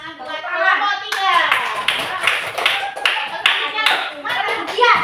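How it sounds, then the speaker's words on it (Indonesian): A class of fifth-grade children claps for a group that has just presented, a loud, uneven burst of hand clapping close by with children's voices chattering over it. "Tepuk tangan buat kelompok 3."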